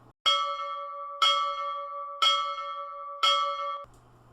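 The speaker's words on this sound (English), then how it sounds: "pulled the rope on the brass bell mounted on the porch railing." A brass bell mounted on a porch railing of a lakeside Victorian house, rung by pulling its rope, gives four loud, evenly spaced clangs, each ringing on with a long metallic decay before a brief faint rustle.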